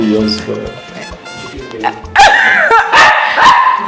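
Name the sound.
puppy barking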